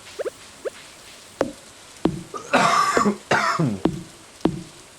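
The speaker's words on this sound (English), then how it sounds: "I've developed a cough lately." A person's dry coughs during a farming game session: a few small coughs first, then a burst of harsh, rough coughing fits close up, with scattered single coughs and throat clearing after.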